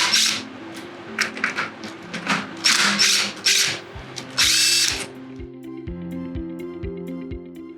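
Power tool whirs in short bursts while removing bolts on a TYM T25 tractor during a rear remote install, with several drill-like revs, a few clicks and a ratcheting rattle, up close and loud, followed by a steady low hum.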